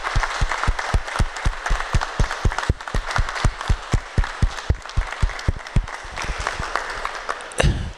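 An audience applauds the young organizers at a community event, with steady, distinct claps in an even rhythm that carry on for the whole stretch and then end in a final burst.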